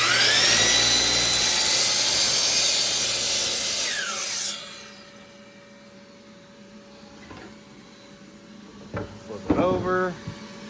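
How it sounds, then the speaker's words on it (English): A miter saw cuts through a wooden board with a loud, high whining screech for about four seconds, then spins down; faint handling clatter and a short burst of speech follow. "what I'm doing here is cutting this for 30 inch, and my miter saw don't quite reach"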